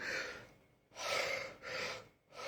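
Three long, close breaths drawn in and out slowly, airy and soft, with brief pauses between them and no talking.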